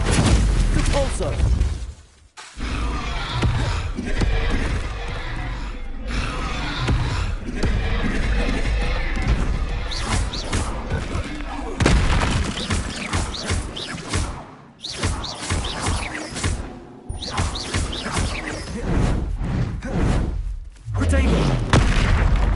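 Spells such as Descendo, Confringo, Incendio, Stupefy and Depulso are cast in a Hogwarts video game, giving loud, dense bursts of booming blasts and crashing impacts in quick succession. Brief near-silent gaps separate them, and voices are mixed in.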